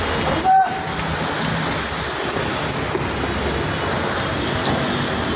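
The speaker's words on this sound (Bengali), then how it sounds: "প্রচণ্ড বৃষ্টি" Heavy monsoon downpour pours over a street in Banani, Dhaka, a dense, loud, constant roar of rain hitting surfaces, with a brief tone near the start and faint traffic underneath.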